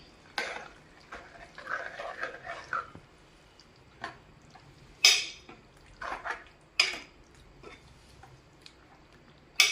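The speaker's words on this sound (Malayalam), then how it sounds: "എല്ലാം കൂടെ ഒന്ന് ഇളക്കി നമുക്ക് യോജിപ്പിക്കാം" Beef curry being stirred and mixed in a pot, giving quiet, scattered clinks and scrapes of a utensil against the pot at irregular intervals, with soft pauses between and no talking.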